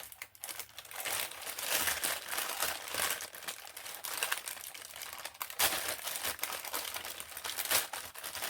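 Plastic crinkling and rustling up close as a bag is pulled open, continuous crackly handling noise throughout.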